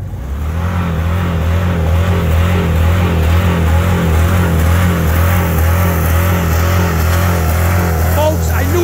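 A Jeep Cherokee 4.0 engine running with no oil and only five pistons is held at full-throttle redline, a loud sustained close-up roar with a rough mechanical rattle and a steady drone throughout.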